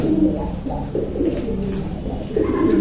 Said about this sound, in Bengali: আমার সবচেয়ে পছন্দের ব্রিডার কবুতর এগুলা